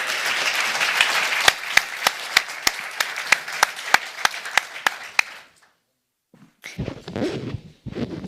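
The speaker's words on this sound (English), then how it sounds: "A big applause, please" Applause for former UN Secretary-General Ban Ki-moon at a high-level international adaptation event: dense, even clapping from a hall audience for about five seconds with sharp louder claps on top, then silence and brief talk.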